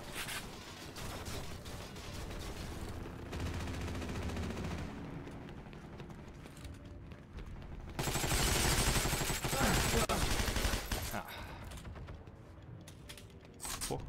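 Bursts of automatic gunfire in the World War II shooter game Heroes & Generals, rapid rattling volleys with a long loud sustained stretch near the middle, other fire sputtering before and after.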